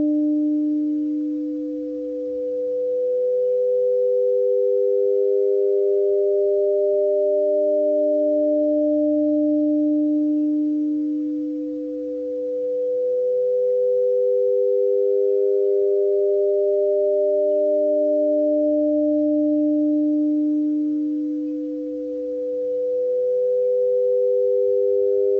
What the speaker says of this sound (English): All these numbers are turned into sound, 300 Hz, 600 Hz, etc.